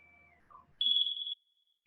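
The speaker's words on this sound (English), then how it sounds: "Buzzer's gonna sound." A CK300 machine's cycle-end buzzer gives one loud, steady high beep lasting about half a second, rising after a quieter faint tone and then cutting off into near silence.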